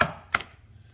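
An egg is cracked on a bowl's edge: one brief, sharp crack with a quick second tap right after, close by and followed by quiet.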